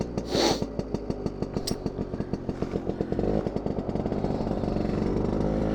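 Vespa smallframe scooter engine, choke just pushed in and running rich, revved repeatedly up close: a loud two-stroke rasp with rapid firing pulses, a sharp early burst, then steady high revs to the end, with no talk.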